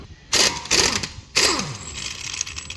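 A 1/2-inch impact wrench with a 3/4-to-1/2 adapter drives out an axle nut on an 8th-generation car, with two short rattling bursts and then a longer hammering burst, close and loud, with no talk.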